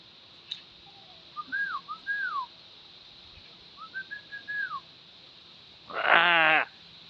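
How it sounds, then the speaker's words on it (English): A yellow-headed parrot is nearby as two short, clear whistled phrases rise and fall with a pause between them, followed by a brief, louder harsh call near the end. "He hears a whistle."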